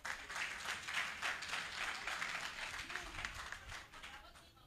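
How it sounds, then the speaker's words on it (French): An audience at an African cinema event applauds for an honored actress, a dense, steady wash of clapping filling the whole stretch at moderate level, with a faint voice briefly underneath. "On dit Madame Bleu Brigitte, c'est comme ça que vous applaudissez pour elle."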